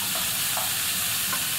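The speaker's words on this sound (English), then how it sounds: "And give that a good mix. And also the chickpea." Chickpeas and vegetables are stirred in a hot pan, giving a steady close sizzle with soft scraping strokes.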